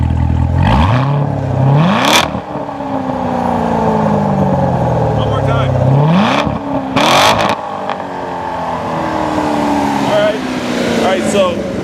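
A 2014 Chevrolet Corvette Stingray V8 engine revs hard several times, its deep exhaust note rising and falling in loud bursts, with someone talking between the revs.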